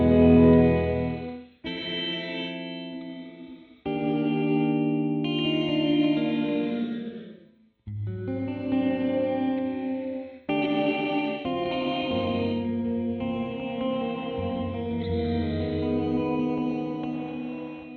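Electric guitar played through a Red Panda Context V2 reverb pedal, with chords and phrases ringing out in lush, washed reverb, echoing tails and chorus shimmer, stopping and restarting in several distinct passages without talk.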